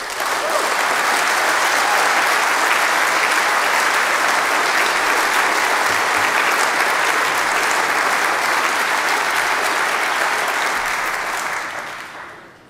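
Long, loud applause from a large political party congress audience after a speech, a thick, even wash of clapping that holds steady for several seconds before tapering off at the end.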